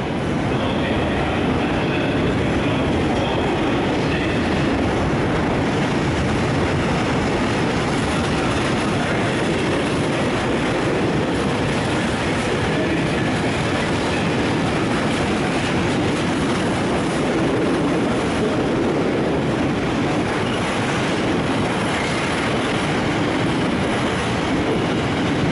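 A track maintenance train rolls past on the Bolton–Chorley–Preston line near Preston, a loud, steady rumble of wheels and wagons with rhythmic clickety-clack lasting throughout.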